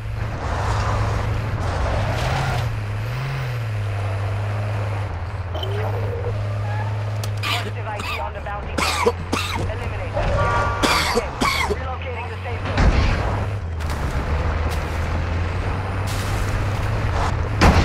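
A military truck in Call of Duty: Modern Warfare II idles with a steady low engine drone that briefly revs, while players talk over it and clanks and a burst of noise break in near the end.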